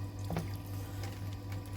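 Water poured into the pan of a whole chicken roasting in the oven, a short splash and trickle at the start over a steady oven hum.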